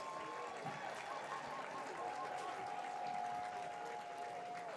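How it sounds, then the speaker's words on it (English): A high school football crowd applauds the class of 2026 at a Pennsbury Falcons home game, steady clapping and murmur filling the stands at moderate distance, with a faint sustained tone running through it. "Give a round of applause to the class of"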